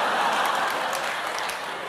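A studio audience at a KBS comedy show applauds to pick the winning comedy team, a brief, dense wash of clapping heard up close for about two seconds.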